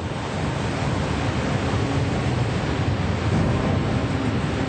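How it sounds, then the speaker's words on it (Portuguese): Parting of the Red Sea rendered as a roaring sound effect, with a steady, loud wash of surging waves and wind-like rushing that runs unbroken throughout and has no voices. "Então Moisés levantou seu cajado e o Mar Vermelho se dividiu."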